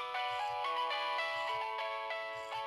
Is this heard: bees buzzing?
no